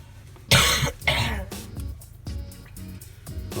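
A sick woman coughs in bursts inside an RV, two harsh close coughs followed by quieter throat clearing and smaller rasping coughs, with brief pauses between.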